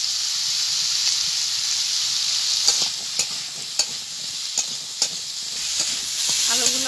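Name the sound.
potatoes frying and being stirred in a pan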